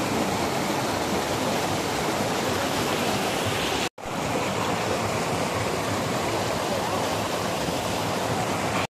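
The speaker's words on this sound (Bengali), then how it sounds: "এই হলো রংভং নদী, যেটার তখন থেকে আওয়াজ পাচ্ছিলাম।" Loud, steady rushing water of the Rangbhang river in the hills of Darjeeling, a dense broadband roar that runs unbroken apart from a brief cut near the middle, with no voices.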